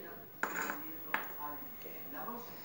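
A container is picked up and set down, giving two sharp clinks against a hard surface followed by softer handling noises, quiet and close.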